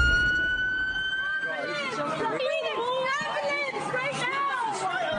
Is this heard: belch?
no